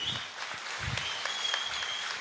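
Audience applause with sharp whistles cutting through, a steady wash of clapping from a crowd honouring Appu sir's birthday, loud and continuous throughout.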